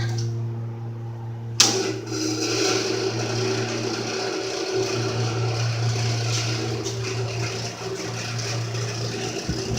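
A repaired garage heater starts up with a sudden thump after a short quiet moment, then runs continuously with a steady low motor hum and fan whir, close by and without speech.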